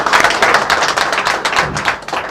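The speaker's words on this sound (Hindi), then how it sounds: "इनकी एडमिशन हुई है भाई, तालियां बजाओ" A crowd at a gathering in the Uttar Bharatiya Bhavan bursts into loud, vigorous clapping for a new admission. The clapping is close and dense and continues unbroken for a couple of seconds without any voices.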